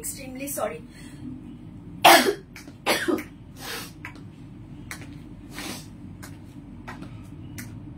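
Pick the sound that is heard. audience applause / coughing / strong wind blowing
coughing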